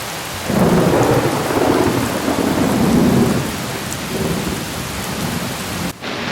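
A thunderstorm over an off-grid homestead: heavy rain pours down while deep, loud thunder rumbles through the first half, then the downpour continues on its own at a slightly lower level.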